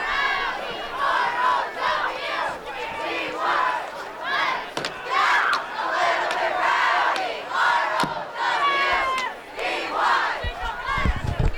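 Westfield's cheer squad cheers at a high school football game between the Bombers and West Springfield, with many voices shouting and chanting in loud rhythmic bursts that rise and fall over the length of the clip.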